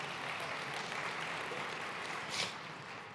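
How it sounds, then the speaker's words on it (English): An audience applauds the fireside panelists at a funeral-industry conference event. The clapping is faint and steady, a soft wash of hands heard from a distance, with no talk over it. "Ladies and gentlemen, another round of applause for our panelists there on the fireside."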